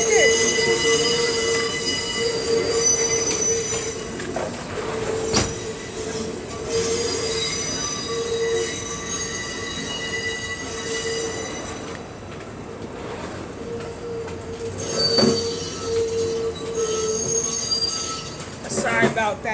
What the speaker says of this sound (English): Sorry about that train, y'all. I know that train is a pain